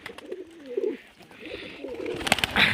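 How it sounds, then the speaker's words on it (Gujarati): Punjabi pigeons cooing in soft, repeated throaty phrases, close by, with a brighter rustle or flutter building toward the end. "પંજાબી કબૂતર, પંજાબમાં આવા જ કબૂતર હોય."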